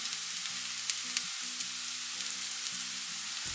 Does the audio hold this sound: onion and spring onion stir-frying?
yes